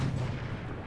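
A tank cannon fires in the video game Armored Warfare, producing a single heavy, booming blast with a rumbling, dense roar that fills the whole short moment.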